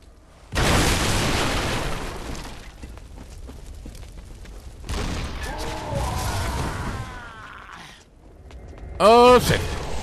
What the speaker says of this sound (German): Dass die Explosion so groß ist.